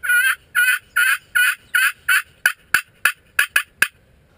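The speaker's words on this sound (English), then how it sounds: "I heard a gobble that was a little more crisp" A wild turkey gobbles repeatedly during a Missouri spring hunt, about ten rolling calls in a steady rhythm, clear but still some distance off, with no other sound between them.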